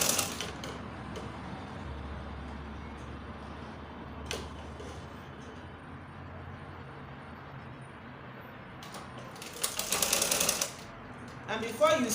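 A sewing machine stitching gathers on a circle skirt, a steady mechanical whir with intermittent sharper bursts at a moderate distance.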